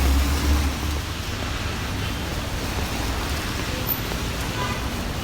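Steady rain falls on a busy street in Yangon on a working day, a dense even hiss that carries through the whole stretch, with a low rumble of passing traffic that swells near the start.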